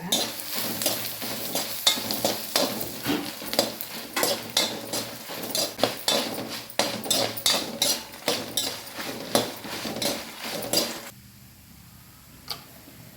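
Coriander seeds, cumin, urad dal and mustard seeds dry-roasting in a pan on a Mangalorean stove, with loud rapid clicks and scraping stirs repeating for about eleven seconds before cutting to quiet.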